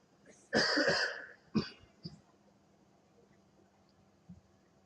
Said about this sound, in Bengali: আমার কাশি হচ্ছে তো